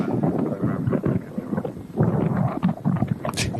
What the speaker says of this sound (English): Sounds a bit more windy where Matt is, though.